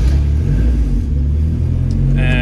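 A turbocharged Mazda Miata engine running on Megasquirt engine management, heard as a loud, steady low rumble close by. It settles into a fairly even idle, and a higher whine enters near the end.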